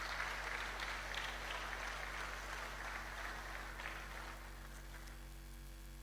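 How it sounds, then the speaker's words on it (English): Audience at a university career forum claps for themselves, a dense, fairly quiet wash of applause that tapers off gradually over several seconds. "Let's clap for ourselves."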